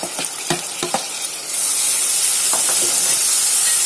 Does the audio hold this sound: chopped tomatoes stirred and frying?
yes